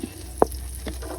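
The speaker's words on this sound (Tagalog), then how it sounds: "And then saute." Minced ginger sautéing in melted butter in a pan gives a faint, steady sizzle with one brief stir or scrape partway through.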